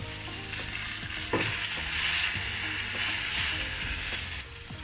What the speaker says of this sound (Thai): ใส่กุ้งตัวเล็กลงไปผัด